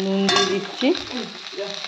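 Spices and salt sautéing in a pan with turmeric and other ground spices, stirred with a utensil; a brief scrape and clatter of the spoon against the pan over a soft sizzle, close by, with no talk.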